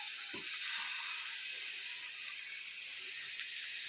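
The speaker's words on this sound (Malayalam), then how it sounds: "ഒരു പാൻ ചൂടാക്കി അതിലേക്ക് കുറച്ച് എണ്ണ ഒഴിച്ച് നമ്മളെ പഴം അതിലേക്ക് ഇട്ട് കൊടുക്കാം" Banana pieces sizzle in hot oil in a pan, a steady bright hiss that stays even throughout, with a faint knock or two of handling early on and no talk.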